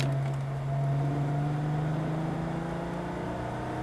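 A car engine drones steadily during a driving lesson on a track, a close, continuous hum whose pitch climbs slowly as it accelerates.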